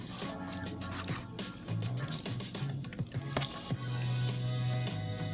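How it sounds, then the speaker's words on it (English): Stirring konjac noodles in sesame sauce gives wet, squishy splatters and drips, a quiet cluster of irregular sticky smacks and slurps close up, with no talk. "Oh, splatter."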